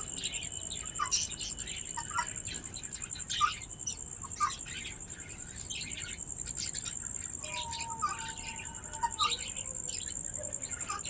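Steady high-pitched chirping of country chicken chicks on a rooftop terrace, with rapid repeated peeps over a constant insect-like trill, fairly close and continuous.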